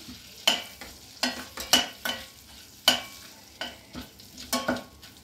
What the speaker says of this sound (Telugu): మిరియాలు చిట్పటలాడాలి, అప్పుడు దాకా వేపించాలి